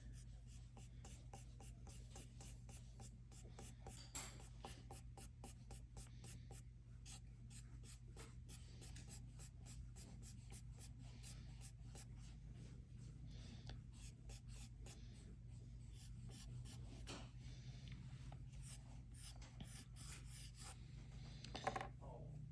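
A pencil scratches lines on paper in quick, steady repeated strokes drawn downward from the top while shading a nose, close and quiet, with a faint low hum underneath.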